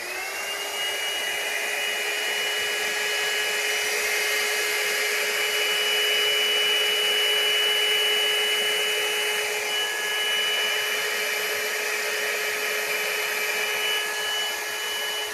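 A hair dryer on low blows acrylic paint across a bloom spin pour, a steady close whirring hum that holds without a break for the whole stretch, with no talk over it.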